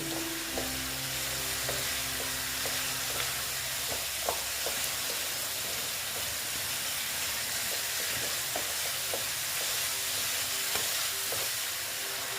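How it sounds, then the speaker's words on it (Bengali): Chopped banana flower and tomato cook down in a hot pan, giving a dense, continuous sizzle broken by the scrape and clack of a spatula stirring, with no one speaking. "টমেটো দেখো দিয়ে এটাকে আমি ভালো মতন কষিয়ে নেব"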